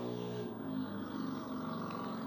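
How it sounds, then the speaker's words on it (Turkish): A steady, low engine hum of road traffic in the game Brookhaven RP, vehicles droning by at moderate distance with no voices. "Araba seslerine bak ya"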